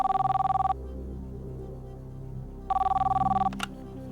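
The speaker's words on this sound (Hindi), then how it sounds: "अंशुमान सिंह जी को लखनऊ में फोन लगाया जाए।" A telephone rings on an outgoing call, two electronic ring bursts separated by a pause over a low background hum, followed by a brief click.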